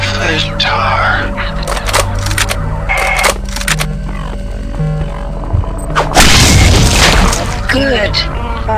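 An alien egg is destroyed in the video game System Shock 2, a loud crunching burst that breaks through steady game music and effects, then trails off into noisy rumble.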